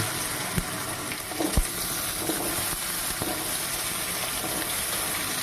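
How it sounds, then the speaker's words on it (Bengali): Cut taro pieces frying in hot oil in a pan give a steady, dense sizzle throughout, with a few soft knocks from stirring and no talk. "কচুগুলো দিয়ে দেওয়া হয়ে গেছে আবার আমরা আলুর মতো করে ভালো করে ভেজে নেব"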